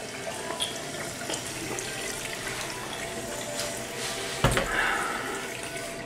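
Tap water runs into a glass at home, a soft steady trickle with a brief louder splash partway through, heard alone without talk.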